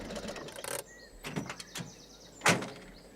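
A bus door opens with a short mechanical slide and clunk, followed by creaks and knocks of the mechanism and a final sharp thud, all close and moderately loud with no talking.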